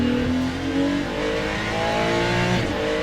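A Ferrari 296 LMGT3 race car in Le Mans Ultimate at Fuji Speedway holds a loud, steady engine note that climbs in pitch through the gears, close and alone.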